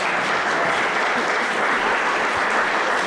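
A concert audience in a church applauds with a dense, steady wash of clapping that holds at an even level throughout, with no voices over it.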